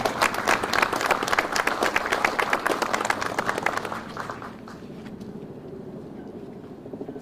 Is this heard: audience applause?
yes